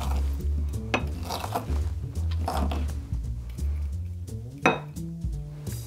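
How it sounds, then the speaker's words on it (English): Tomatoes are muddled for a spicy tomato gin and tonic, with close, repeated knocks, clinks and squelches of a muddler working against the bottom of a glass at an uneven pace, and one sharper clack near the end. "So we're gonna muddle this."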